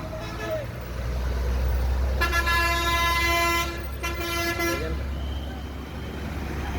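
Road traffic rumbles past on a congested street, with a long, loud horn blast blaring for a couple of seconds and a shorter honk after it, while a voice talks over the engine noise.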